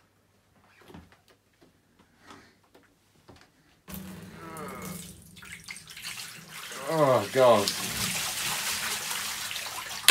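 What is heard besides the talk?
water splashing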